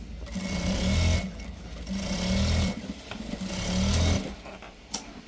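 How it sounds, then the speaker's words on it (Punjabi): A sewing machine stitching a shirt collar runs in three rapid whirring bursts separated by short pauses, close and fairly loud, with no talking. "ਇਸ ਤਰ੍ਹਾਂ ਤੁਸੀਂ ਨੇ ਖਿੱਚ ਖਿੱਚ ਕੇ ਇਹ ਸਲਾਈ ਲਗਾਉਣੀ ਹੈਗੀ"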